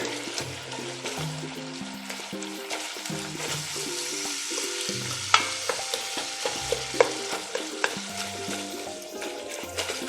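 Meat browns in a high-rimmed pot for Bolognese sauce, a steady close sizzle and crackle of hot grease with a few sharp pops and spatters, under faint background music.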